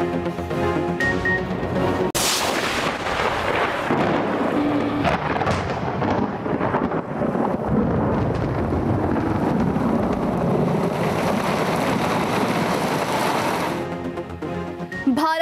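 Thunderstorm with heavy rain, loud broadband roar of downpour and wind with a sharp thunder crack early on, continuous and close, no talk.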